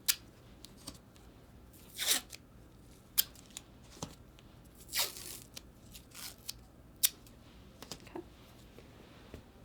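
Strips of adhesive tape are pulled and torn off a roll in short, crisp bursts with small crinkles between them, close and fairly quiet, while bandaging is prepared.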